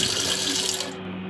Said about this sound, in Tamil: இது மாதிரி ரன்னிங் வாட்டரில் நல்லா அலசி எடுத்துங்க